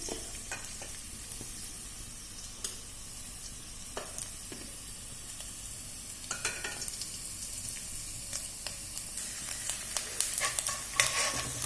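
Ginger fries in hot oil with a soft, steady sizzle, punctuated by sharp scrapes and taps of a spoon against the pan that grow busier toward the end; no speech.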